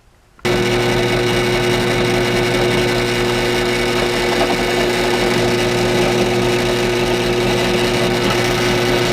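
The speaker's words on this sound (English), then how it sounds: "Now the Harbor Freight step drill." A Harbor Freight step drill bores into carbon fiber with a loud, steady high-pitched whine that starts abruptly and runs continuously, close up and alone.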